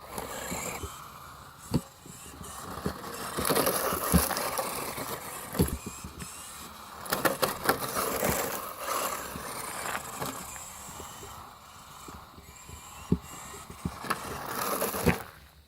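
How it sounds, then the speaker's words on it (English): A small RC car with an upgraded, smoother differential runs on a 2S battery, its motor whining and rising and falling in bursts with sharp clicks and knocks from the chassis over a steady background hiss, with no talking. "we're going to do a real quick run on 2S and see if the vehicle handles any better with a smoother diff"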